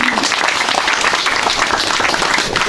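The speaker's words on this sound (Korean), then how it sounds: "박수로서 환영해 주십시오" A congregation at a 147th anniversary memorial service applauds to welcome a pastor, steady full-room clapping that stays loud and even throughout.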